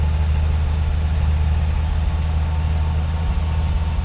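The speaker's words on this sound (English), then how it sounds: "That 6-cylinder is a wonderful, beautiful working piece of machinery." Close up, the six-cylinder engine of a 1982 Chevy truck idles with a smooth, deep, continuous rumble that holds steady and loud throughout, with no talking.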